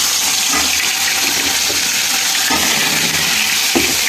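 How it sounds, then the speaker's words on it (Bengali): Chicken meat dropped into hot oil in a pan for a home-style chicken roast, setting off a loud, continuous, close-up sizzle and hiss that stays intense throughout, with a few soft knocks of stirring. "গোশটা আমি দিয়ে দেবো মুরগির।"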